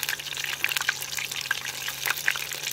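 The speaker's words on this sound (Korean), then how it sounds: "이거보다 더 잘 튀기지네" Food sizzles and crackles in hot oil at a campsite, a steady close hiss scattered with sharp pops, heard alone without talk.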